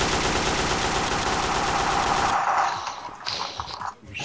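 Rapid automatic gunfire in Garry's Mod DarkRP rattles loud and close for about two seconds, then breaks off into scattered scrapes and softer mechanical clatter.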